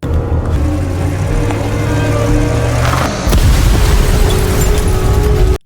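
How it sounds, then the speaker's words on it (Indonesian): A police car set on fire in a film scene: a loud low roaring burst with rumbling flames, then a second heavier blast and sustained crackling roar before an abrupt cutoff. "Kemudian dia membakar mobil polisi tersebut untuk menghilangkan semua bukti kejahatannya"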